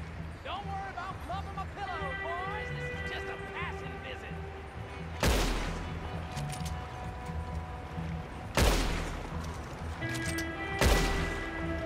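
Three loud, sharp gunshots from Red Dead Online ring out a few seconds apart during a shootout on PS4 Pro, cutting through a steady ambient bed of game music and background noise.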